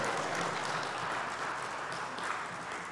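An audience claps steadily through the whole stretch at an education symposium on games, a dense, even wash of many hands with no pauses and no talk over it.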